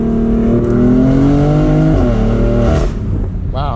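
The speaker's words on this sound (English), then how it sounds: "We'll do a little acceleration here." BMW M4 Convertible with a 7-speed dual-clutch gearbox accelerating hard with the top down, a loud rising engine roar climbing through the revs before a quick shift drops the pitch, heard close from inside with wind rush.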